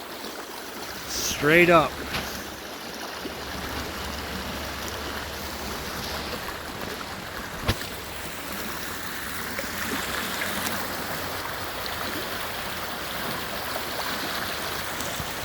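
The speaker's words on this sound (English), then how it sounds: "There's some serious rapids right there." Creek rapids on an Illinois farm, a steady broadband rush of flowing water heard throughout, with a brief spoken remark near the start and a sharp knock midway.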